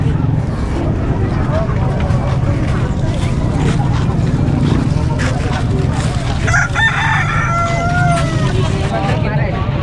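Native chickens and roosters crow and cluck at a busy livestock market in San Carlos City, Pangasinan, with a steady din of crowd chatter and several loud overlapping crows rising above it.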